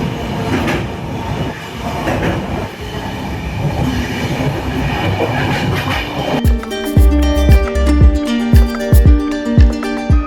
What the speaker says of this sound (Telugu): అండ్ బ్రిడ్జ్ మీద నుంచి వెళ్తున్నప్పుడు ఒక మంచి రిథంతో సౌండ్ అయితే వస్తుంది.